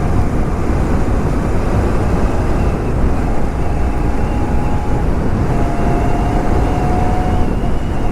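A Royal Enfield Continental GT 650 cruising in sixth gear on an Uttarakhand mountain road gives a loud, steady, unbroken roar mixed with heavy wind rush for the whole stretch.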